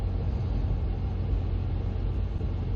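A steady, low engine rumble and road drone fill the cabin of a 2017 SsangYong Rexton W 2.2 XDi diesel with a 7-speed Mercedes automatic as it climbs a hill. The tone holds nearly even throughout, with no talking.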